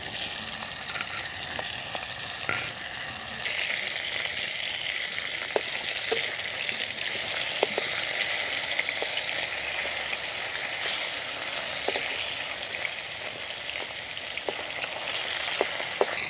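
Sea fish (laufali) frying in a pan for a fish and eggplant dish, giving a steady, close, crackling sizzle that carries on without pause for the whole stretch, with no voices.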